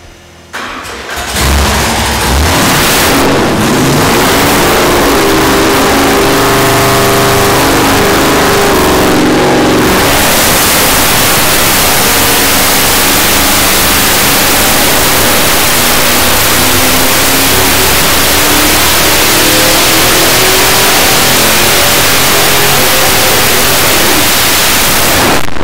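Engine on a Westech dyno fitted with a Holley Sky-Ram intake manifold, starting up and then roaring at sustained high revs, loud and continuous, rising in pitch as it pulls through the run.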